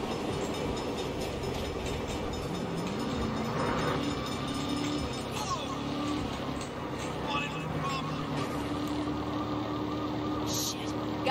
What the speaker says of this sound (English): Bad time for a train.